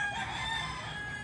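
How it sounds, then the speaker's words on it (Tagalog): Chickens crowing and clucking in a breezy backyard, moderately faint and a little distant, with a steady rustle of wind beneath the calls, no talk. "naririnig niyo yung mga manok"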